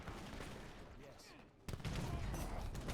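Gunfire from town centers in a competitive Age of Empires 3 match: a dense fusillade of crackling shots that grows louder and fuller partway through, with other battle noise mixed in.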